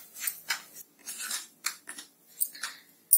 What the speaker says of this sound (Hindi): इसमें मैं सूजी डाल दूंगी और सूजी को हम भून लेते हैं